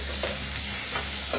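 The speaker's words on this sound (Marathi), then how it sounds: "कांदा 1-2-3 मिनिटं चांगला परतून घ्यायचा." Chopped onion sautéing in a pan for a monsoon soup, a steady soft sizzle with occasional stirring scrapes, close and continuous, no talking.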